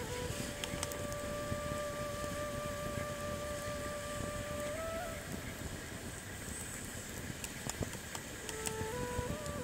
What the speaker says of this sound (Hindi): तो पक्षी की आवाज़ है शायद।